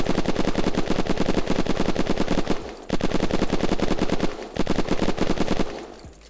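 Rapid, sustained automatic gunfire in the survival shooter Unturned, loud and close, firing in long bursts with two brief pauses between them.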